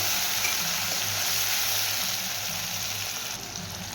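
Tomato and onion fry together in a pan with a steady, soft sizzle, an even hiss that holds for the whole stretch and eases slightly near the end, with no talking over it.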